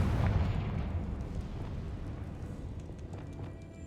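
Confringo explosive spell in Hogwarts Legacy: a single booming blast at the start that rolls off into a fading rumbling decay, no talking over it.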